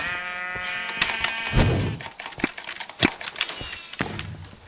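Several sheep in Minecraft bleat in wavering, nasal cries, one after another, over clicks and taps from nearby.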